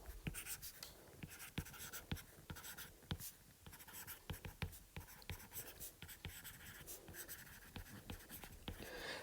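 A pen writes notes on paper at close range, with rapid, uneven scratching strokes and brief pauses between words.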